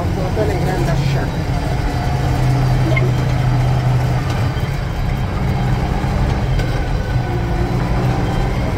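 A Zetor 16145 tractor engine labours under load while pulling an Alloway stalk mulcher through boggy ground, a loud, steady low drone that holds throughout at close range.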